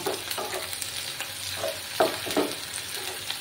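Whole garlic cloves fry in a pan with onions, making a steady sizzle with a few louder spatters and stirring scrapes close by.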